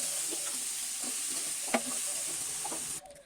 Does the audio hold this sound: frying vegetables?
yes